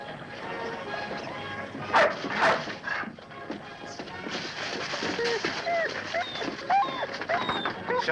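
A dog at a western homestead barks and gives high, wavering whimpers in short bursts, mixed with people talking nearby.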